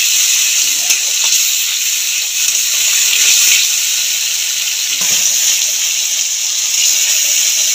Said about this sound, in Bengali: টমেটোটা নাড়াচাড়া ভালো করে ভেজে নেব।